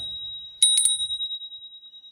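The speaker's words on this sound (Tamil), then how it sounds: "அந்த அடித்து பெல் வந்து டிங்கன்னு அந்த இழுவ சத்தம் இருக்கு" A small antique brass bell from Jaffna is struck twice in quick succession, giving a bright metallic ding followed by a long, clear ringing tone that slowly fades.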